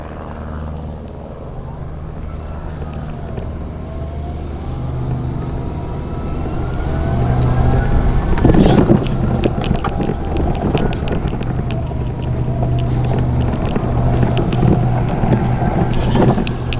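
A Quickie M700 power wheelchair driving over bumpy grass, its steady motor whine rising and falling with the terrain, joined by rustling and jolting rattles and some wind buffeting on the microphone, continuous and close throughout.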